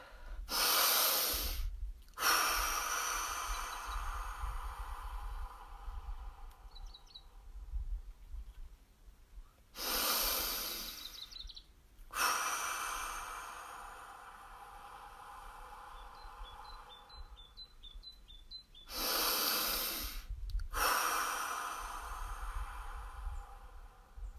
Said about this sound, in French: Je vous invite à prendre 3 grandes respirations pour commencer.